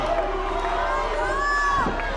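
At a boxing match in a fighter's hometown, the crowd chants and cheers in a sustained, sing-song chant that fills the hall at a fairly loud, continuous level.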